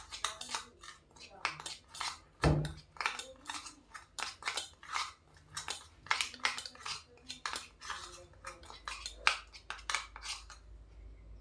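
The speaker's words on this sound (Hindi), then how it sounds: "फिर अच्छे से इसको मिक्स करना है।" A spoon scraping and clinking in a small bowl while rice facial paste is stirred with raw milk, an irregular run of close, crisp taps and scrapes.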